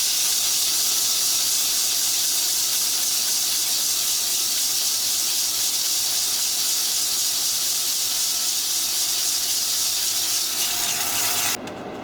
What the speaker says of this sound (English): Just give it a sanding.